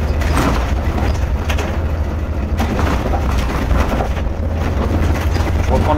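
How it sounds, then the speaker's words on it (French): An Irisbus Crossway coach engine accelerates at about 2000 rpm in fourth gear, a loud, steady drone with heavy low rumble and wind roar from inside the cab. "Accélération, 2000 tours, quatrième vitesse"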